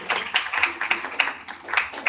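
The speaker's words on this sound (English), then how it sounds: "let's give a final round of applause to the first year" A small audience at a school English speech contest gives a round of applause for first-year speakers: sparse, uneven hand claps with distinct individual smacks, close and moderately loud.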